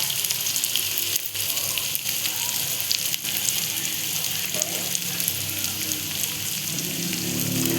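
Curry leaves fry in hot oil with a loud, dense, continuous sizzle and crackle, heard close up throughout.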